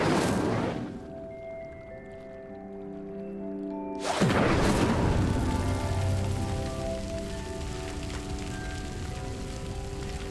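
Incendio fire spell cast to light pyres in the Hogwarts Legacy video game: a sudden whooshing burst ignites into a sustained roaring, crackling fire over soft tonal game music.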